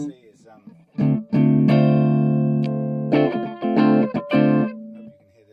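Oakcaster 16 headless travel guitar played clean and picked up by a nearby mic, a few plucked notes and chords ringing out and decaying, fairly close and moderately loud with no talking over it.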